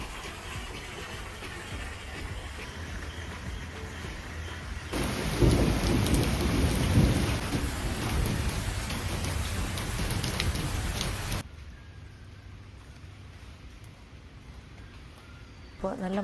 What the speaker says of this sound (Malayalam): രാവിലെ മഴയൊക്കെ പെയ്തിട്ട് ചെറിയൊരു മഴയും മഞ്ഞുമായിട്ട് നിൽക്കുവാണ്